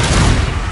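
A short, loud Confringo spell blast from Hogwarts Legacy: a dense, booming burst that fills the whole moment up close, with no talk.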